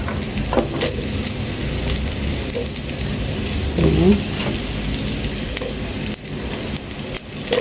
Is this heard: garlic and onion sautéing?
yes